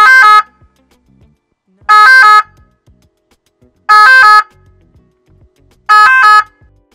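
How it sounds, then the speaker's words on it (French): An emergency vehicle's three-tone siren sounds in four identical bursts, each a loud, bright, shrill electronic tone cycle separated by roughly two seconds of silence. "les véhicules d'intérêt général qui bénéficient de facilité de passage ont une sirène"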